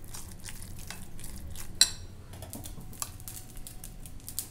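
A spoon mixes a thin batter for a quick breakfast in a bowl, making faint, rapid clicking taps against the sides with a single sharper knock partway through.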